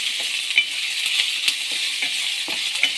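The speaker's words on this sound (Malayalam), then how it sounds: "നമുക്ക് ഇളക്കുന്ന കാണാം." Mackerel curry frying in a pan, with a steady bright oil sizzle and light rhythmic scrapes of a spoon stirring through it, close and fairly loud, plus a few small metallic clicks.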